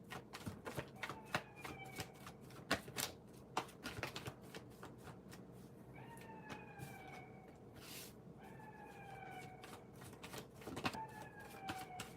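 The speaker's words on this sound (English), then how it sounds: "Shuffle the cards." Rapid papery riffling of tarot cards being shuffled in short bursts, with sharp taps between them and faint chirping tones in the background.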